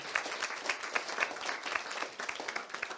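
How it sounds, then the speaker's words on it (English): An audience applauds panel members after a digital inclusion panel discussion, with a steady patter of many hands clapping at moderate distance and no talk over it. "huge round of applause for our 7 members presenting"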